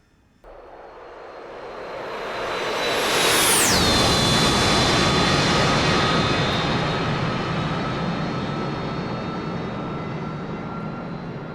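In the DCS flight simulator, the non-afterburning jet engine of an AV-8B Harrier spools up from quiet to a loud, steady roar with a high whine that swoops down in pitch, then holds a sustained drone during a climb.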